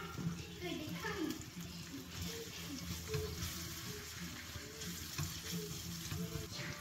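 Onion batter fries in a pan for chicken gola kebab, giving a steady soft sizzle and bubbling hiss throughout while someone talks over it.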